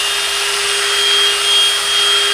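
A power drill fitted with a Milwaukee cobalt bit bores into steel, a steady loud high-pitched motor whine with a constant tone and no pauses, alone without talk.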